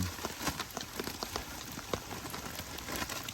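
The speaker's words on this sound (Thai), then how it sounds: "วันนี้ก็ฝนตกปล่อย ๆ ลงมาแล้ว" Rain falls steadily outdoors beside a fish pond, a soft, even patter of drops on surfaces with a few sharper taps, faint and without any talking.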